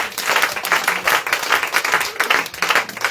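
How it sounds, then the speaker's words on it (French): A church congregation applauds during a Christian testimony festival, producing loud rhythmic clapping in repeated bursts of many hands, close and sustained throughout with no talk. "Acclame le Seigneur Jésus."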